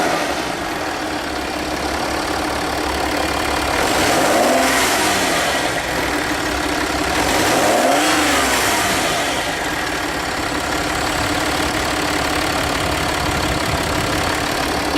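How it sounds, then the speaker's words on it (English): A Land Rover Discovery TDV6 diesel engine idles and is revved twice, each rev rising and falling smoothly with audible turbocharger whine, close and loud. "you can really hear the turbocharger in there as well."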